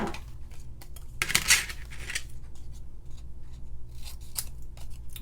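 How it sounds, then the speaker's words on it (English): Scissors snip around lollipop shapes on paper card, a series of close, crisp cuts with a louder cluster of snips near the start and lighter clicks after. "So I just fussy cut this right around the lollipops."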